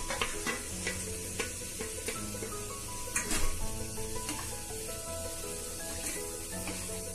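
Cut paneer and tomatoes fry in a hot pan on a gas stove as a steady close sizzle, with repeated scraping stirs of a spoon against the pan throughout. There is no talking.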